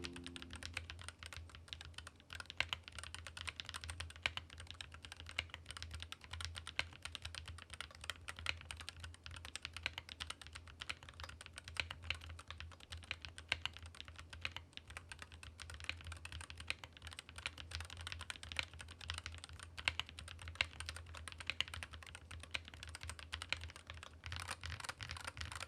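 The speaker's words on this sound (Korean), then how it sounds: "이 상태에서 타이핑 테스트 바로 진행해 보도록 하겠습니다" Steady typing on a MelGeek MADE68 Pro magnetic-switch keyboard fills the whole stretch, with dense, even keystroke clacks close to the microphone and no talking.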